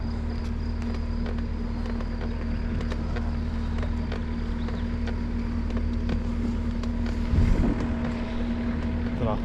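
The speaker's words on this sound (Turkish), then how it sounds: "traktörlü abi geliyor" A tractor engine on a road drones steadily and fairly close through the whole stretch, a constant low hum mixed with wind noise, with a brief louder swell near the end.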